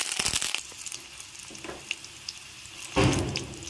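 Garlic, dried red chillies and curry leaves fry in a pan for a curry leaf chutney, giving a light, uneven crackle that surges into a louder sizzle near the end.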